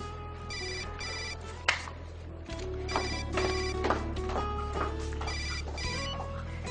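A telephone rings in a Spanish-language telenovela scene, an electronic ringtone with repeated melodic tones over a steady low hum, close and loud, with no speech.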